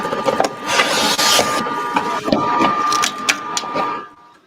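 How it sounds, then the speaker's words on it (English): A heat press for hats clunks and ratchets as its lever is raised to clamp a hat in place, giving a run of close mechanical clicks and scrapes over a faint steady hum before falling quiet. "once you lift this lever, this locks the hat in place"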